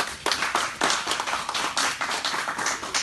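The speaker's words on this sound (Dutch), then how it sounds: "Applaus voor hem even." A small group claps for a visiting district chairman at a community gathering, distinct uneven hand claps close by, loose and irregular in rhythm, carrying on briefly without talk.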